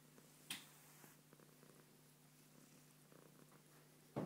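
Domestic cat purring softly and close while its tummy is stroked, a faint steady low rumble running under quiet indoor room sound, with a brief rustle near the start and another toward the end.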